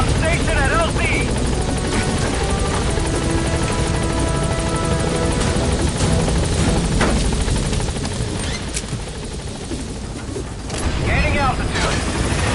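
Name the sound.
helicopter in Metal Gear Solid V video game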